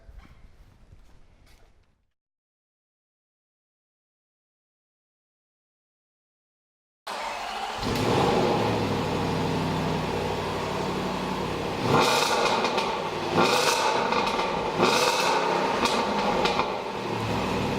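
After a stretch of silence, a warmed-up 2014 Range Rover Sport with 510 horsepower starts up and idles loudly nearby, then three sharp throttle revs swell and fall back toward the end.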